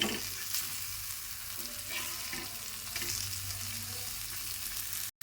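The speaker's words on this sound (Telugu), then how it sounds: "బాగా ఫ్రై అయ్యే వరకు వేయించుకోవాలా." Pomfret fish frying in oil, a dense continuous sizzle close by with a few faint pops and stirring scrapes, cut off briefly near the end.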